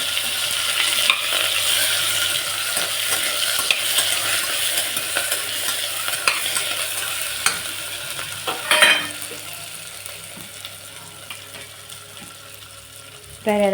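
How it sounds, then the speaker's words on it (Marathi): Eggplant pieces go into cumin frying in oil in a pan, giving a loud, continuous sizzle with scraping stirs and a sudden burst of crackling partway through. "जिरं मस्त तळल्या गेले त्याच्यात आपल्याला हे वांगे टाकून घेऊ"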